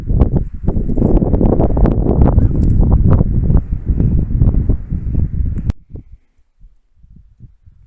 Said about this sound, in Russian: Как тут ветер дует, не переставая.